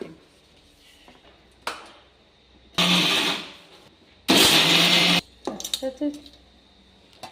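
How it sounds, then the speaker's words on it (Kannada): Mixer grinder powdering peanuts and jaggery, running in two loud whirring bursts of about two seconds each, separated by a pause, with soft clatter and faint talk around them. "ಶೇಂಗಾ ಬೆಲ್ಲ ಮಿಕ್ಸಿ ಮಾಡಿ ಪುಡಿ ಮಾಡ್ಕೋತೀನಿ"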